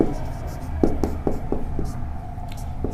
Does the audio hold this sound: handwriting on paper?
yes